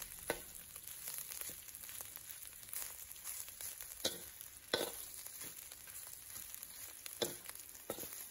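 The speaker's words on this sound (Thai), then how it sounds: "ผัดให้พอเหลืองครับแล้วหอมครับ" Ingredients for Thai salted stewed carp being stir-fried in a pan until golden, a steady sizzle with occasional scraping stirs of the utensil, close and without talk.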